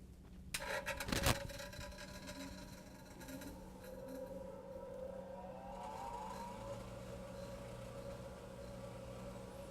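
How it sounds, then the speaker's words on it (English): A grinder whines faintly and steadily after a brief sharp knock near the start, then its tone slides downward as it is switched off, with a low hum lingering beneath. "the only thing I'm going to do now is turn off this grinder"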